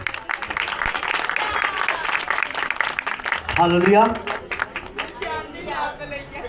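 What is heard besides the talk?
congregation applause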